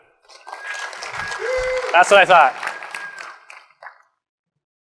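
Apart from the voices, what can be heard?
audience round of applause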